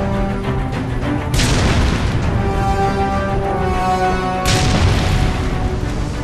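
Gunfire in the video game Hitman Absolution sounds as two heavy booming bursts over a constant dense in-game din, with no talk.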